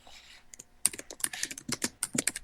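Rapid clicking and key taps on a computer, a quick irregular run of sharp close clicks with no talk.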